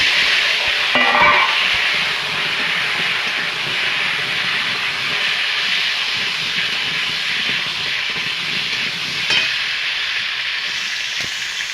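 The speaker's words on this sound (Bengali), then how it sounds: "আলুটা ভেজে নেব আলুটা দিয়ে দেবো" Potatoes fry in oil in a wok with a loud, continuous sizzle that holds steady throughout, with no voices.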